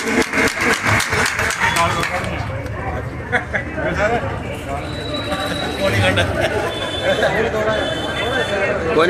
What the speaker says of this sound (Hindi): किशन जी दुग्गल के लिए पहले एडवांस तालियां ऐसे जुझारू कार्यकर्ता की